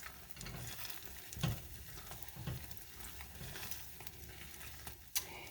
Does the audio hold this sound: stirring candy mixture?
yes